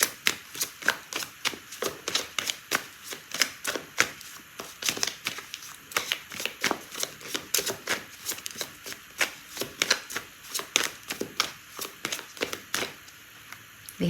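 Tarot cards shuffled for a Virgo love reading, a long run of steady crisp slaps and riffles at a brisk even rhythm, close and clear with no talking.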